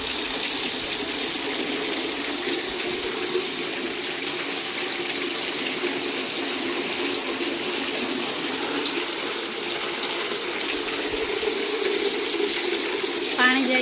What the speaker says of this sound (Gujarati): પાણી જાય છે બધું।